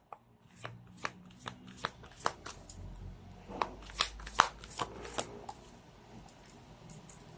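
A deck of oracle cards shuffled by hand, close and fairly quiet, with a steady run of crisp riffling snaps and slaps, a few stronger bursts in the middle, and no talking.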